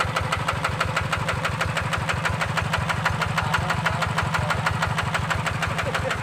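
An old Ford TF150 DI diesel tractor engine chugs steadily at idle with a fast, even knocking rhythm, close and loud throughout.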